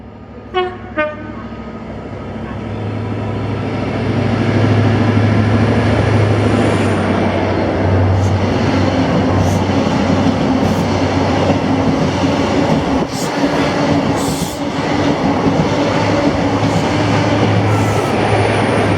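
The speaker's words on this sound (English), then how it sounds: "creeping up on me was 1A17, the 1155 London North Eastern Railway service to London King's Cross from Inverness" A London North Eastern Railway passenger train from Inverness to London King's Cross approaches and rumbles past at close range at Kirknewton, a loud steady roar with a couple of short horn toots near the start.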